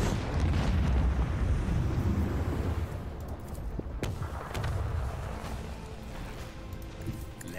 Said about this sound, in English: And unleash the storm of macro cannons.